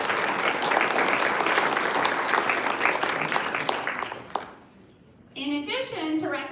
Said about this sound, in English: let's give the faculty and staff who've been there to support you a round of applause